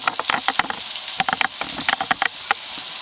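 Chicken pot pie filling cooking in a pan, a brisk crackling sizzle with irregular sharp pops and spatters over a soft hiss, close and fairly quiet.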